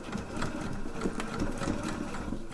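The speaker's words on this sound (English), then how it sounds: "just to sew them together with your sewing machine" A sewing machine stitches jersey fabric, a steady mechanical whirr with rapid regular ticking from the needle, close and constant throughout, with no talking.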